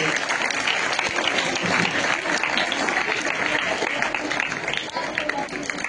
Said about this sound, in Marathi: टाळ्या वाजवायच्या